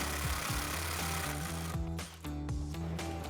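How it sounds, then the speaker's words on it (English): An impact wrench working a sway bar bolt on a 1994-2004 Mustang GT, loud rapid hammering bursts with a short pause before it resumes, close up. "I'm gonna give 1 hand to the bar and 1 hand to my impact and get this bolt out of here"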